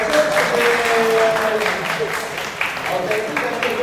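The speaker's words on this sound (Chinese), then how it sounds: "掌声谢谢" Audience applause at a baseball team's rookie signing press conference, a steady wash of clapping lasting several seconds, fairly loud and continuous, with a voice talking over it.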